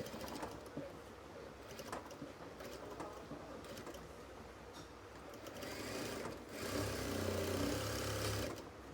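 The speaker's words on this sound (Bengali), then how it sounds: "তারপর এখানে আমাদের ব্যান্ডের চারপাশ দিয়ে রাউন্ড করে সেলাই করে নিতে হবে।" A sewing machine stitches around the band of a kameez band collar in a continuous rapid whirring run, steady and close, growing louder and denser toward the end.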